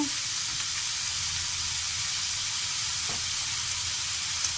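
Leftover larb being stir-fried with rice into fried rice crackles in a pan as a constant even sizzle, with a light knock or two of a utensil and no talking.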